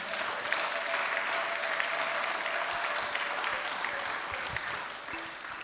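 Applause from a church congregation, steady and dense throughout with a faint sustained tone running beneath the clapping.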